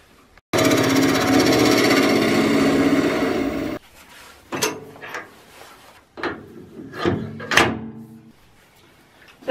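Bowl gouge, 16 mm, facing a wooden tealight holder blank flat on a lathe: a loud, steady rasping cut for about three seconds, then a series of short separate scraping bursts with pauses between them.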